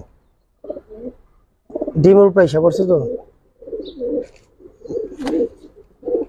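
Giribaz pigeons coo close by in a loft in soft throaty bursts, with someone speaking briefly in between.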